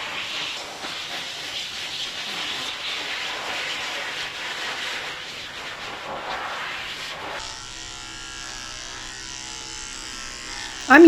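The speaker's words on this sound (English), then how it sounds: "I'm using a number 3 blade on him." Electric grooming clippers fitted with a number 3 blade run on a Maltese dog, a steady buzzing hum that holds for most of the stretch, with a blow dryer's hiss heard earlier on.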